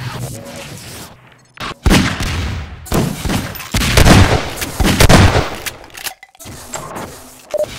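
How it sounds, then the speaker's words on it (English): Heavy magnum revolver shots ring out in Half-Life 2 Deathmatch, loud separate booms mixed with other close gunfire and in-game action, with brief gaps of quiet between bursts. "Can Saul hit two magnum shots before I hit anything?"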